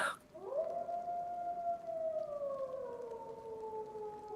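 Wolves in DayZ let out a long, loud, drawn-out howl that rises, holds and slowly falls, with a second overlapping howl joining, heard alone without speech.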